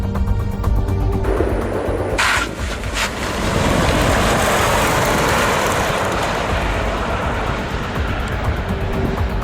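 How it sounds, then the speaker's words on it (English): Lucid Air Sapphire electric sedan launching on a poor, slippery surface, with a steady broadband roar of tyres spinning and road noise that stays loud and continuous throughout, with no talk. "the surface is not that great, so we're just spinning a lot."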